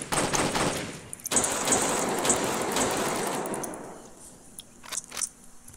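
Rapid bursts of gunfire aimed at a helicopter in the Roblox game Jailbreak, a dense run of fast mechanical clatter lasting several seconds before thinning out into a few sharp final shots.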